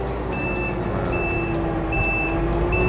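Large diesel forklift reversing: a steady, regularly repeating high reversing beep over a loud continuous engine drone, close by.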